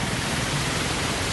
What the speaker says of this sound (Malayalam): മുണ്ടക്കയം കണ്ട ഏറ്റവും വലിയ വെള്ളം